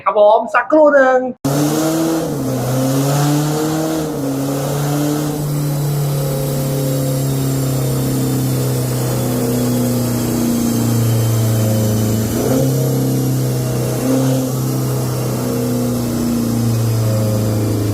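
A diesel BMW F30 with a Euro Art aftermarket exhaust drones loudly and steadily close by, its pitch wavering as it is revved, after a brief burst of speech at the start.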